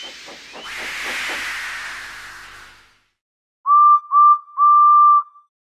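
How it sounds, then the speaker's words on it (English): Steam engine gives a long loud hiss of escaping steam with a few chuffing puffs at the start, then after a pause sounds three clear, steady whistle blasts, alone without voices. "So they lit his fire, made lots of steam, and Edward puffed away."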